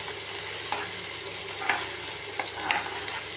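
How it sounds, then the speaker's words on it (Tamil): Onions sautéing in a pan over high heat give a steady, close sizzle with faint scraping and stirring clicks scattered through, no talking. "இந்த வெங்காயமும் நல்லா பொன்னிறமாக வதங்கணும்"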